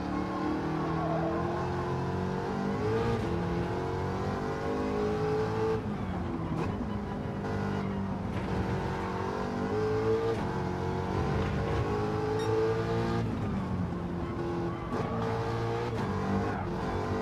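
An American muscle car engine in a racing video game drones loudly and continuously, rising and falling in pitch as it revs through gear changes and braking, with faint tyre noise.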